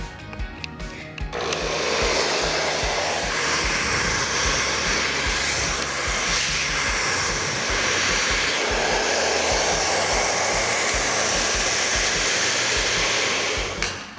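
A hair dryer set to high heat and low power blows steadily and close up, a constant whooshing roar that starts after a brief moment and holds evenly until it cuts off at the end.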